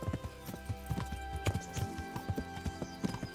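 Horse hooves clip-clop in the medieval video game Kingdom Come: Deliverance, a brisk uneven rhythm of close, fairly loud hoofbeats over a low background hum, with a faint whinny-like tone.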